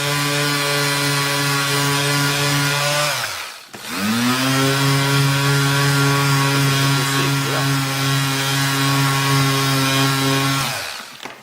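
A loud, steady motorized whine of a power sander runs continuously, briefly dropping and spinning back up midway before running on.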